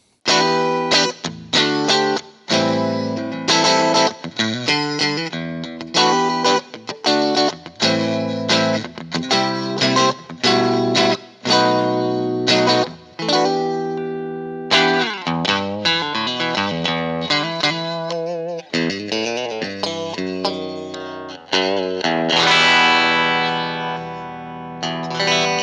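An electric guitar played through a Fender Pro Junior tube amp with gain at 9 and tone and volume at the middle gives crunchy, overdriven chords and riffs, loud and close, with short pauses between phrases and no talk.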